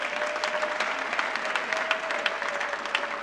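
A church congregation at a Sunday convention applauds steadily, a dense continuous patter of many hands clapping at even loudness throughout.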